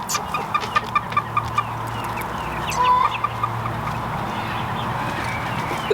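A mother hen and chicks cluck in a quick, evenly spaced series of short calls, then a few softer clucks follow over a low steady background hum.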